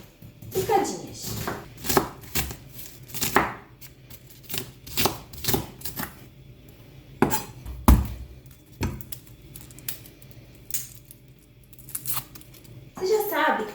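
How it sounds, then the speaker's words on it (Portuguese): Onions are chopped finely with a knife on a cutting board in a home kitchen, giving a run of close, crisp blade strikes in irregular bursts with short pauses between them. "Eu vou cortar todas as cebolas picadinhas."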